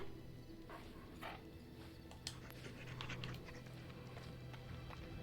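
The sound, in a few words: mabari war dog in Dragon Age: Origins video game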